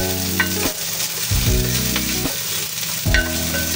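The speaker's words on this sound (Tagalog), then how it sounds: "Isan po natin yung ating sibuyas." Onions sautéing in a pan for chicken pochero: a steady close sizzle broken by a few clattering stirs, with no voices.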